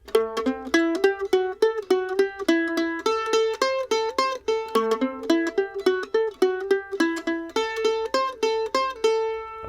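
A plucked stringed instrument plays a fiddle-tune practice line from Old Ebenezer Scrooge twice in a row, crisp regular notes with a steady rhythm, close and clear with no talking.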